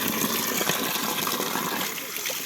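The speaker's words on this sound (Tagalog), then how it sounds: "maganda yung bukal talaga ito galing lang doon sa taas itong tubig na ito" Spring water from uphill pours steadily in a cold outdoor spot, a loud continuous rushing flow with no pauses, close by.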